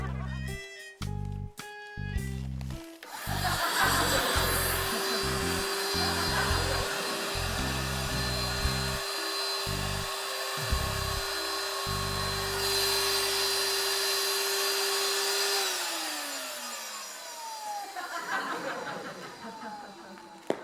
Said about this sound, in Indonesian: Awas, karpetnya mau gue vakum.